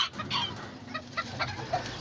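Miniature Azteca and Serama chickens and roosters clucking nearby, a busy mix of short clucks and chirpy calls over a low background murmur.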